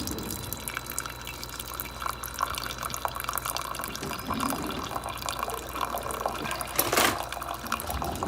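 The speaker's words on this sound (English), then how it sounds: "Now we're getting the brew going." Sboly single-serve coffee maker with a ground coffee basket brewing, giving a steady watery trickle and dripping that runs throughout at moderate level, with one brief louder splash or hiss near the end.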